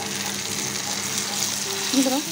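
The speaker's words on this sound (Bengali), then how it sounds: "এখন সেই পটল পেস্টটা আমি দিয়ে দিব চুলাতে।" Pointed gourd paste and chopped onions fry in a pan on the stove, giving a steady close sizzle with a few brighter crackles near the end.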